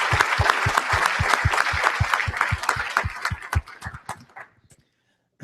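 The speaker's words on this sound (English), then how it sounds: "certainly a round of applause to all of our county managers" Applause at a Florida artificial reef summit meeting: a small audience claps in a rapid, even rhythm, the beats close and clear, then thinning and stopping into silence near the end.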